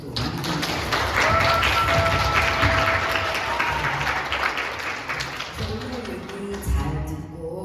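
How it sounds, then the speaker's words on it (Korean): An audience of students claps for visiting graduate guest speakers at a Korean school orientation lecture, a lively burst of many hands with some thumps and taps, gradually thinning toward the end as a few scattered claps trail off. "다시 한번 박수 또 많이"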